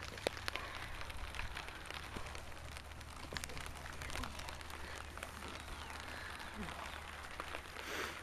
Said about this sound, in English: Starting to rain here in the DCZ arena.